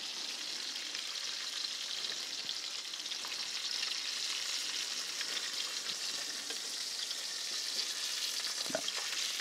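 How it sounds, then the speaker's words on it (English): Sauce sizzles steadily in a pan of oil left from frying sea bass for paccheri, a dense continuous crackle with a few sharper pops, close and fairly loud, with no voices. "now we're going to make the sauce in the same oil and the same pan as this"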